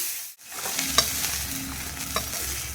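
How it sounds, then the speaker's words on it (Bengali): Food frying in oil over a high gas flame gives a continuous close sizzle, broken by a couple of brief stirring clinks. "এবার এটাকে ভেজে নেব"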